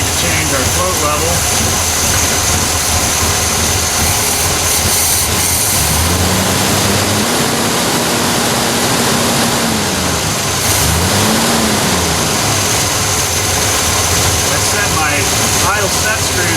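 A 1968 Chevrolet Malibu engine with a Quadrajet carburetor runs close and loud at idle, a steady rough rumble with a couple of brief rises in pitch as the revs shift.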